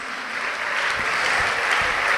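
A church congregation claps together in sustained applause during a sermon, a steady dense wash of hands with no voices over it.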